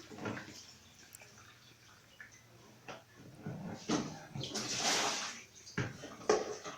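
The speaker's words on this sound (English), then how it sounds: "Pour the water away." Water is poured away from grapes being washed in a home kitchen for winemaking, giving a splashing, gushing pour that swells in the middle and ends in scattered drips.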